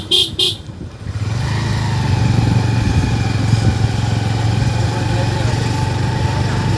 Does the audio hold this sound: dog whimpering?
no